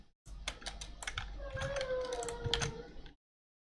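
Quiet typing on a computer keyboard, a string of uneven clicking keystrokes for about three seconds, with a faint creak or squeak in the middle, then silence.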